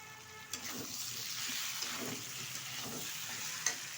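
Jackfruit cooked with spices sizzles and fries in a pan while being stirred, a steady close hiss with occasional soft scrapes and a couple of sharp utensil taps.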